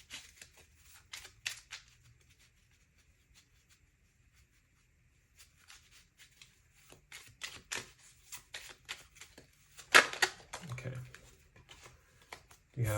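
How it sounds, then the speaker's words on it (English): Tarot cards being shuffled during a pick-a-card reading, a series of soft riffling and flicking bursts that cluster late in the clip, with a quiet stretch in the middle and brief talking mixed in. "I'm gonna keep shuffling."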